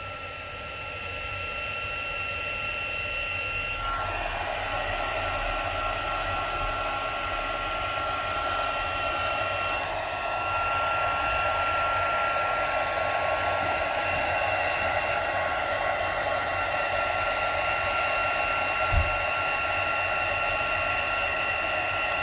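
A small heat embossing tool blows with a steady, whining whoosh that runs continuously and grows slightly louder, close and unbroken throughout.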